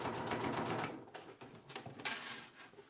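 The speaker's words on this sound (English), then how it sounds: "So I'm just quilting this little front pocket." A sewing machine quilting a small fabric front pocket runs in bursts of rapid mechanical stitching, pausing briefly between runs, close and moderately loud with no speech.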